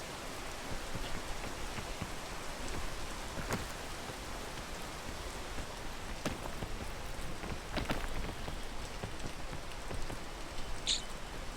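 Rain falling in the climbing video game Peak, a dense, even hiss of raindrops on surfaces lasting throughout, with occasional sharper drop patters and no talking.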